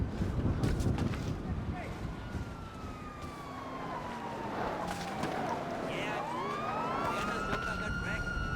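A wailing police siren rises and falls over wind and engine rumble, with a second siren sweeping in toward the end, in the video game GTA 5 Online.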